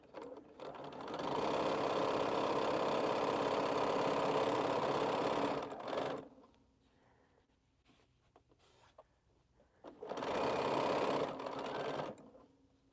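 A quilting sewing machine runs in a fast, even whir for several seconds, stops, then starts again for a shorter burst, with quiet room sound during the pause.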